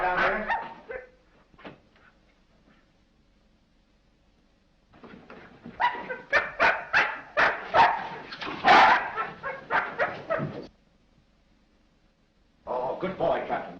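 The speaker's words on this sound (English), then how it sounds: "This dog's been struck a nasty blow." A dog that has been struck barks and whimpers in short yelping bursts, coming in clusters with a pause between them, close and fairly loud, mixed with people talking in an old mystery film.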